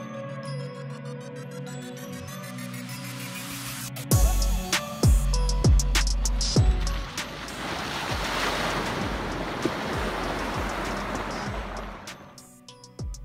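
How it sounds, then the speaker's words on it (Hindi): A hatchback car drives off-road through a water crossing deep enough to reach the number plate. After a low engine drone, a loud rush and splash of water hits suddenly and keeps surging steadily before fading near the end. "अब कार की वाटर क्रॉसिंग देख लेते हैं।"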